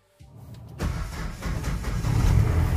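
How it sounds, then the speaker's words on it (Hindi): A Mahindra Bolero, shifted into neutral, is started on its self-starter: a brief crank, then the engine catches and settles into a loud, close, steady idle with no talking. "अब आप इसे न्यूट्रल करके सेल्फ मारते हैं"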